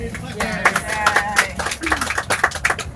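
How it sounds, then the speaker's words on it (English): A tour group claps for their bus driver, a short burst of uneven hand claps close by, mixed with voices talking over it. "Give me a big, big applause for Platek, our driver"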